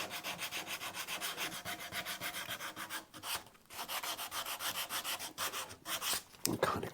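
A wooden Telecaster guitar body is hand-sanded in quick, even back-and-forth strokes, close and loud, with a brief pause midway and a couple of knocks near the end.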